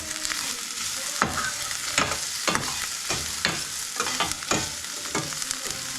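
Onions fry in a pan with a lively, close sizzle and regular scraping stirs, alongside marinated beef with chopped tomatoes and soy sauce.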